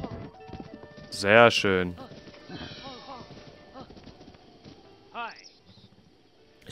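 Horse hooves clip-clop in The Legend of Zelda: Breath of the Wild, with a loud whinny early on and steady galloping hoofbeats beneath someone talking in German.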